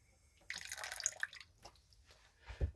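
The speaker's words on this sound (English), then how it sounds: "I always fill the can with another amount of water" Tap water running into an empty soup can, a splashy burst of pouring and dripping lasting about a second, followed by faint drips and a low thump as the can is handled.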